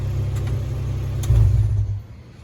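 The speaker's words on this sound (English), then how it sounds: "I'll go ahead and shut the car off real quick" A Mazda NC Miata idles with a steady low rumble, briefly swells louder, then dies away as the engine is shut off, leaving a faint quiet tail.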